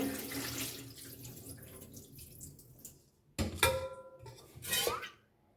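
Soaked rice being washed in water, splashing and swishing in a bowl with a running tap, followed by two short louder bursts of pouring and clinking against the vessel, close and without speech.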